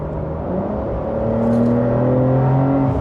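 A Porsche 911 Carrera of the 992.2 generation, driven in sport mode, revs with a steady engine drone that rises gradually in pitch as it accelerates, close and fairly loud, with no voices over it.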